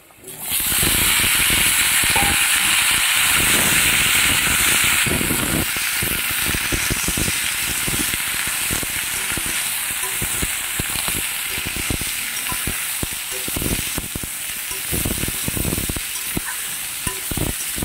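Sliced ridge gourd tipped into a hot pan over lightly fried potatoes bursts into a loud, steady sizzle that holds throughout, with scraping and clicking from stirring running underneath.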